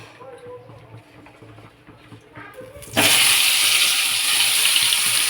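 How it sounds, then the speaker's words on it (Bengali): Potatoes dropped into hot oil seasoned with salt and turmeric, a loud broadband sizzle bursting in about three seconds in and staying steady, after quieter kitchen sounds and a voice talking. "তেলটা প্রায় গরম হয়ে এসছে, এবার আমি তেলের মধ্যে আলুগুলোকে দিয়ে দেব।"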